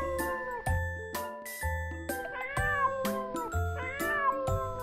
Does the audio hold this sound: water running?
no